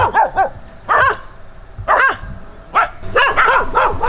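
A dog barks in repeated bursts close by, several sharp barks in quick clusters with short gaps between them, heard outdoors on a path up a small hill behind a grandparents' house.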